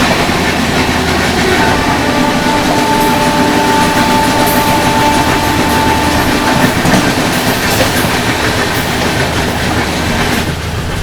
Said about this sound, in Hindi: सुपरफास्ट एक्सप्रेस ओवरटेक करने जा रही है मुजफ्फरपुर गरीब रथ एक्सप्रेस को